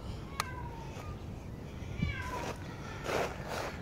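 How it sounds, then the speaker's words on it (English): A cat stuck inside an emptied swimming pool gives several meows, some faint and distant and one louder near the end, over a low steady outdoor background. "Stupid cat went in there, and now he's stuck."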